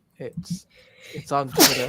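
A sharp, close sneeze bursts out after some casual conversation, with voices talking just before it.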